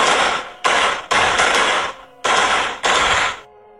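Five loud bursts of large firecrackers exploding in rapid crackling volleys like gunfire, each burst lasting about half a second to a second and separated by short gaps, with a brief ringing tail after the last.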